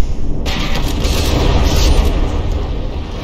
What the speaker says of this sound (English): See those APS shells, when they're hitting the turret armor